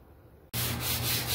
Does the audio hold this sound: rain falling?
no